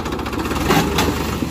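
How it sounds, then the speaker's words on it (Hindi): A Mahindra tractor engine starts and chugs steadily with a rough, rattling idle, close by and fairly loud, with a slight surge partway through. "इस तरीके से भी ट्रैक्टर स्टार्ट हो जाता है"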